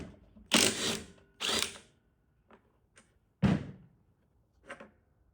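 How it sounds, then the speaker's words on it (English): An impact wrench removing the blade of a mower with a Briggs & Stratton engine: two loud, close buzzing bursts, a faint tap, another strong burst, then a softer final burst, with quiet gaps between. "impact wrench to take that off"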